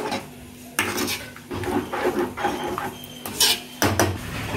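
A utensil stirring vatha kuzhambu curry scrapes and clinks against a metal pot in short, irregular strokes, close by, with no talking.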